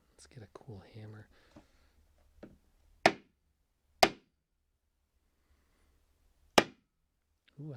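A hammer strikes wood to distress and wear it, giving three sharp, loud, isolated knocks spaced about a second or more apart, close up, after some quiet whispered talk.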